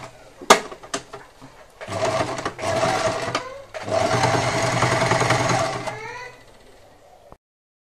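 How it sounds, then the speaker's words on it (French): A sewing machine stitching a seam on a pair of shorts, several close whirring runs of rapid stitching separated by short pauses and clicks. "Et puis, ben, on démarre la couture."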